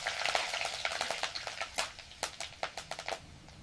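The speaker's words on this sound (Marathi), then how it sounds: "तेलात लसूण मिरचीची बारीक वाटलेली फोडणी द्यायची।" Finely ground garlic and green chili paste hits hot oil as a tempering, crackling with sharp, irregular pops that quicken and grow denser toward the end.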